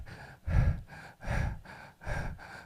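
A voice imitates a baby's fast, short breathing with three quick, audible breaths at a steady rhythm, close and breathy, without spoken words.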